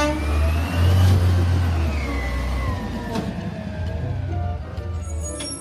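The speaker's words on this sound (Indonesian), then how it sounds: "Di sini ada mobil truk sampah." A garbage truck engine rumbles nearby, loud and heavy at first, then settles into a steadier mid-pitched drone with faint higher whines and a few sharp clicks, with no voices.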